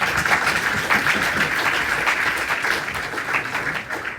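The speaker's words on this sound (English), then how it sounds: "Don't clap, I'm not used to it." Steady, dense audience clapping fills the room at a fairly loud, even level for several seconds, with no voices standing out, as a host introduces former Coventry player Harry Roberts to a gathered crowd.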